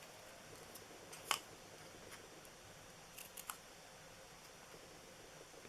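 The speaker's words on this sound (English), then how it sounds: "I think I'll just cut this a little bit shorter." Scissors snip while trimming material for a DIY Easter egg peek-a-boo treat gift box, heard as a quiet sharp cut near 1.3 seconds and a couple of soft clicks later, close up in a quiet room.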